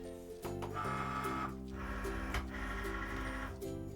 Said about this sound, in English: I'm going to load it into the Cricut.